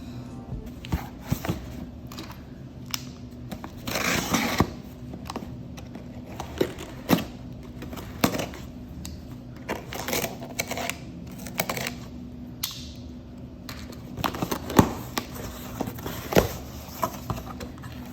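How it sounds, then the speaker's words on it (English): Packaging box around a 2023 doodle planner being torn open by hand, a steady run of close, crisp tearing, crinkling and tapping sounds with irregular sharp peaks throughout. "y'all can hear the little ASMR of me tearing into it"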